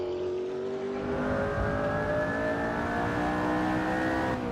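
A race car's engine in Assetto Corsa revs up in a steady rising whine, held loud and close for several seconds before easing off at the end as it brakes.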